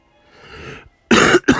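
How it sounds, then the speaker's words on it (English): A soft breathy exhale followed by two sharp, loud coughs in quick succession, close to the microphone. "I really do apologize about coughing in your ear"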